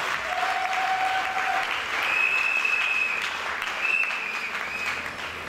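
An audience claps in a continuous, fairly close wash of applause at a church gathering, holding steady throughout with a few faint whistles on top.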